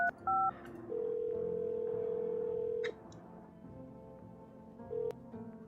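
Phone keypad tones sound in the video game No, I'm Not A Human: a few short beeps, a long held tone for about two seconds, then one more brief beep against a quiet background.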